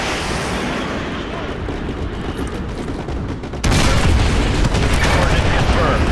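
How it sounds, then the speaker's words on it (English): Artillery strike in Call of Duty Modern Warfare 2: a dense, sustained roar of booming impacts and rumble, which jumps abruptly louder partway through and stays heavy and loud to the end. "Fire mission received. Artillery inbound."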